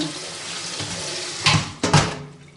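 Tap water runs steadily into a sink as pinto beans are rinsed, a continuous close splashing hiss with a couple of louder surges near the end.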